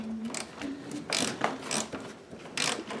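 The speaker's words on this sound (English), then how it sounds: "Let me put the nut on up here." A nut is threaded onto a bolt on a wooden whelping box, giving a series of quiet ratcheting, scraping mechanical clicks in irregular bursts at close range.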